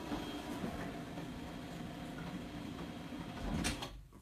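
A belt drive garage door opener runs with a steady, low mechanical hum and a soft whirring drone throughout, fairly quiet and even, ending with a brief louder rattle near the close.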